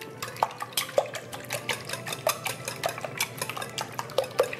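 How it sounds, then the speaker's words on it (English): Eggs being lightly beaten in a bowl, a fork or whisk clinking against the side in quick irregular strokes with a soft liquid slosh, close and fairly quiet, with no talking. "You want to slightly beat them so the yolks are broken."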